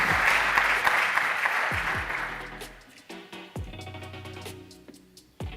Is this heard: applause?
yes